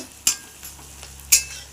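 Homemade egg toast with onion fries in a pan, with soft sizzling under two sharp spatula scrapes against the pan.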